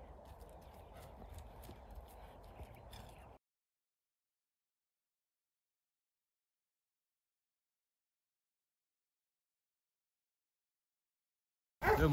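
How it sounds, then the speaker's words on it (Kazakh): A horse for sale in Kyrgyzstan is ridden at a short run, its steady hoofbeats fairly close for about three seconds before the sound cuts to silence, then a brief loud burst returns at the very end. "ат суу электет бир аз болсо да, кичине чаптырып көрөлү"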